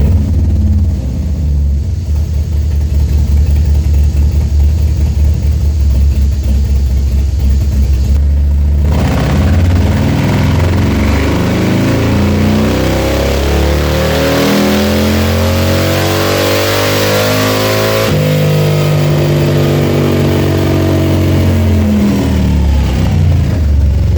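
A motorcycle engine on a dyno with an SE Street Tuner warms up at a steady loud idle, then revs up and down in sweeping rises and falls, close and continuous with no talk.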